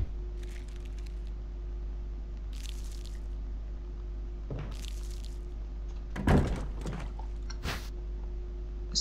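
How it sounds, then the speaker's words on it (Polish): Door opening and closing in Resident Evil HD Remaster, heard as a few brief creaks and thuds over a steady low game hum, with one louder clunk near the middle. "Słyszałam, że jakieś drzwi się zamknęły,"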